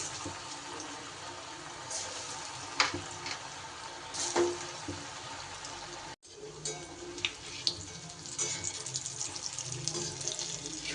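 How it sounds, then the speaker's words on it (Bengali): Elephant foot yam pieces frying in hot oil, a steady close sizzle and bubbling hiss with occasional pops and clatters of pieces shifting in the pan. "তেল কিন্তু গরম হয়ে গেছে এইবার আমি এগুলো ভেজে নেব"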